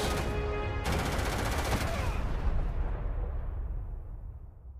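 Gunfire in the space game Starfield: a dense, loud barrage of overlapping shots and blasts that runs steadily for several seconds, then trails off into a fading rumble.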